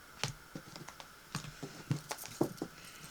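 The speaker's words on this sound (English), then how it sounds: "Finish this shuffle." Tarot cards are shuffled in a run of soft, papery riffles and taps, close and quiet, with no talking.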